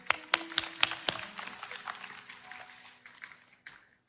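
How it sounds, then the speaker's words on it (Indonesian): Congregation applause at a GMS Surabaya Barat youth church service: a few sharp claps at first, then softer scattered clapping that thins out and fades over about four seconds, fairly faint. "Tepuk tangan buat Tuhan Yesus."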